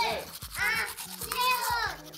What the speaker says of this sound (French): attrape ta brosse à dents, ton dentifrice, et tu frottes jusqu'à ce que l'histoire soit terminée